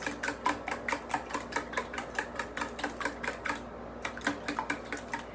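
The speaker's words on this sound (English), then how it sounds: "let's just give it a few more whisks" Eggs whisked in a bowl for breakfast tacos, a steady run of quick, evenly spaced clicking taps against the bowl, fairly close and moderately loud, with a brief pause before the strokes resume.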